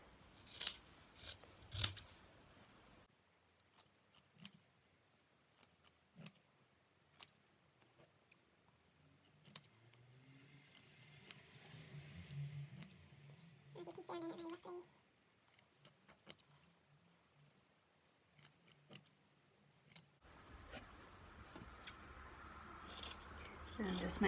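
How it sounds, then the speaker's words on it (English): Scissors snipping through stretchy t-shirt fabric, front and back layers together, cutting it into strips: a series of short, crisp cuts spaced irregularly, close and quiet, with soft handling sounds and brief talk in between. "I'm gonna cut roughly centimetre long strips through both of the"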